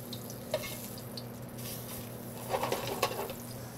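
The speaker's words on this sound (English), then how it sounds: "So now we're gonna saute 2 to 3 minutes on each side till it's nice and golden brown." Flour-dusted pieces sauteing in a pan until golden brown, giving a low steady sizzle with a few small pops and stirring clinks, moderately near and fairly quiet, with no talking.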